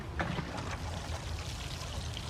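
Water poured from a container onto a pruned tomato plant in a garden, a steady close splashing pour running unbroken throughout with no voices.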